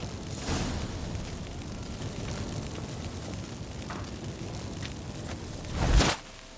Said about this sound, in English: Get ready for some magic fireworks. Once I activate the incense, we'll have a moment to talk.